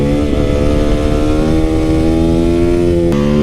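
A motorcycle engine runs loud and close in a steady, high-pitched rev, with the pitch climbing gradually and dropping briefly near the end.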